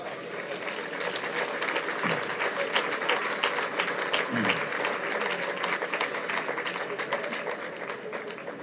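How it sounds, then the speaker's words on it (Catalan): Audience applause at a festive dinner in L'Alcúdia, dense steady clapping from a sizable crowd that holds at an even level throughout, with a few louder claps and voices mixed in. "Per favor, fem un fort aplaudiment perquè els mereixem tots."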